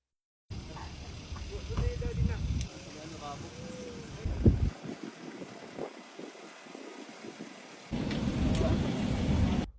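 Rain mixed with snow falls outside a cabin in North Carolina, a soft steady patter and hiss with a louder burst near the end, while a person talks quietly over it.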